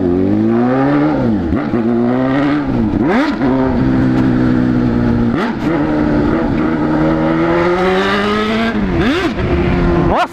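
A green Honda Hornet motorcycle with a full straight-pipe exhaust revs hard on an empty street, its loud engine climbing and dropping in repeated throttle blips for about ten seconds, close and continuous with no talk.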